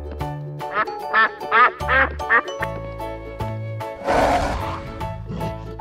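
Cartoon duck giving a rapid series of about five loud, nasal quacks over upbeat background music, followed by a rougher burst of noise.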